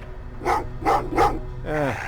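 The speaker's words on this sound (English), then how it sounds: "Oh, what's with the dog?" In the Terminator: Resistance game, a dog gives three quick, fairly close barks followed by a whining yelp, over a low background hum.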